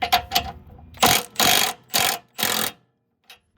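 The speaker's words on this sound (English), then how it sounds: "Next, we're going to loosen up the 18mm nut." Bursts of ratcheting from a wrench loosening an 18mm nut on a second-generation Nissan Rogue during lower control arm work, several short rapid clicking runs with brief pauses, close and fairly loud, ending in silence.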